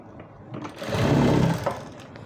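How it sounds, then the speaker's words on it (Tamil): A sewing machine runs a short burst of stitches, sewing quarter-inch elastic into a palazzo waistband. The close, steady mechanical whirr swells in the middle and then fades. "அதுக்கப்புறம் நீங்கள் அந்த எலாஸ்டிக் மேலே அடிக்காமல் அது உள்ளே போகிற மாதிரியே அப்படியே வச்சு ஒரு தையல்."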